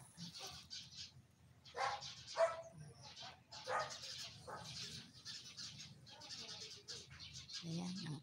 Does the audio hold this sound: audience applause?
no